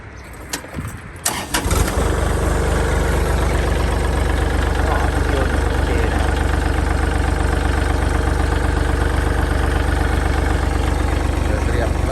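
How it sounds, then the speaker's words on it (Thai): A Kubota L3608 tractor's diesel engine clatters and cranks briefly, then catches and settles into a loud, steady idle that continues unbroken. "ฟังเสียงเครื่องยนต์"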